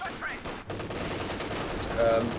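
Gunfire from a video game battle between Grenadiers and a rifle squad crackles in moderately faint bursts of shots under a commentator's voice.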